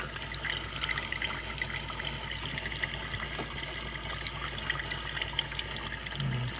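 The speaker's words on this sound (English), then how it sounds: "you can see this is just warm milk coming out" Warm milk streams continuously from a milk frother machine that is failing to produce foam, a steady liquid pouring and trickling sound with a constant mechanical hum underneath.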